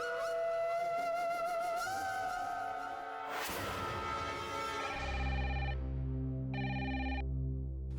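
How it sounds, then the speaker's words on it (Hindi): A telephone rings amid a swelling dramatic music score, its tone emerging in short repeated bursts near the end of the sound. "फोन की घंटी खुद ब खुद सुरीली हो जाती है।"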